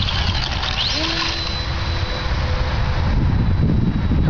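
A GWS Formosa model airplane starts its maiden flight, its small motor a steady drone with a rising whine, while wind noise rumbles and people talk nearby.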